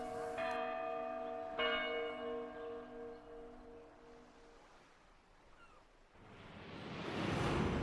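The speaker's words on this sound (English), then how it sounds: "Here's the bells." Bells in the town of Numara in the Lost Odyssey video game ring with two clear, resonant strikes that hang and fade, followed by a rising wash of surf-like whooshing noise.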